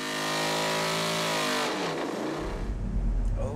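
An LS7 Corvette V8, freshly tuned with new 39-pound injectors, revs hard on an engine dynamometer, its loud harmonic wail holding high, then falling off as the throttle closes into a rumbling, crackling idle.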